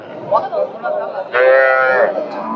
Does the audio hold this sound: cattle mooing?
yes